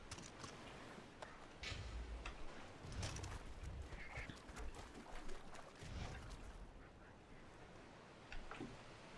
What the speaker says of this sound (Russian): Ну, это, наверное, птицы такой зверские звуки издают.